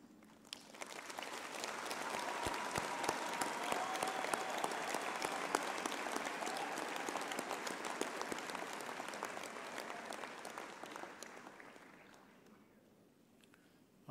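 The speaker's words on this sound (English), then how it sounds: "let us give our graduates a big hand for their work and" An audience at a university autumn graduation ceremony for theology and veterinary science graduates bursts into sustained applause that swells, holds for several seconds, then fades away, heard from a distance in a large hall.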